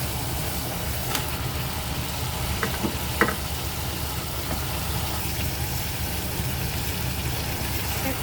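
Chicken meat added to a hot pan, a steady close sizzle and frying hiss with a few faint clinks and stirring sounds, with no voice over it.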